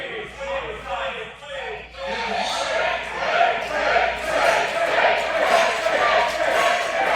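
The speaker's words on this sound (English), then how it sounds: "Ref Wade getting cheers from the crowd." An arena crowd at a live wrestling event cheers for referee Wade, a continuous swelling roar of voices that builds and stays loud, with a commentator talking over it.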